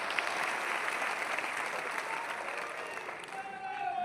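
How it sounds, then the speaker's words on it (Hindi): Loud, sustained applause from a large crowd at a Congress party 'Save the Constitution' rally, dense clapping that continues for several seconds. "तो इनके लिए तालियां हो जाए जोरदार।"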